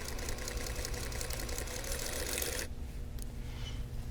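A sewing machine runs steadily as it stitches across the edge of a quilt block, a fast continuous whirring chatter that stops abruptly near the end and leaves only faint background noise.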